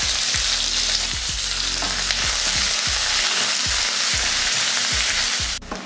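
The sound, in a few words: onion sautéing in hot oil in a kadai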